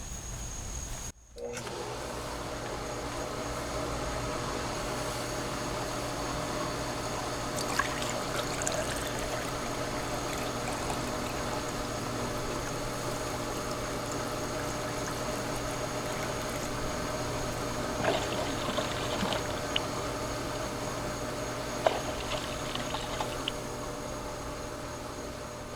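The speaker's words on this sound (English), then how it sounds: "Turn the pool pump on." A swimming pool pump hums steadily at the skimmer, water circulating with a constant wash and trickle, with a few faint clatters partway through and no talk over it.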